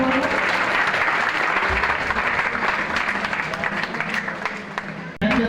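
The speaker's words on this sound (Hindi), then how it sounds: "जोरदार तालियों से स्वागत" A village crowd in Pipraun claps loudly to welcome an MLA, a sustained dense applause close by that runs unbroken before a sharp knock near the end.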